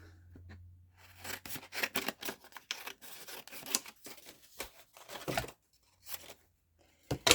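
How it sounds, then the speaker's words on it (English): Scissors cut a chunk off a sheet of cardstock in a long run of crisp, rapid snips and rustles at close range, then a short pause, a few final cuts and a sharp closing snap, with no talking. "I'm just gonna cut a chunk off."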